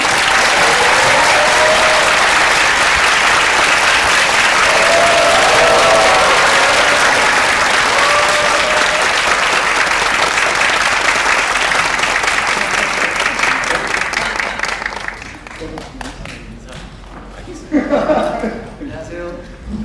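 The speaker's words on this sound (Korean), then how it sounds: "최동원 감독님과 유해진 배우 큰 박수로 맞이하겠습니다" Loud, sustained applause from a film festival audience welcoming director Choi Dong-hoon and actor Yoo Hae-jin at a Tazza anniversary talk event, with scattered laughter mixed in, fading near the end as a voice begins to speak.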